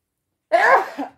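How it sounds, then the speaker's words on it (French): A single sharp human sneeze bursts out after a moment of silence, loud and close, with a short trailing exhale. "Encore une fois, j'ai éternué."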